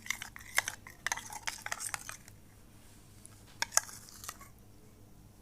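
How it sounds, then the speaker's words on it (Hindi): Aloe vera gel is mixed with whitening capsules in a small bowl, giving close, soft clicks and scrapes in quick bursts that thin out toward the end, with no voices. "इस अच्छी तरह से मिक्स करना है ताकि एलोवेरा और वाइटनिंग कैप्सूल अच्छी तरह से मिक्स हो जाएं"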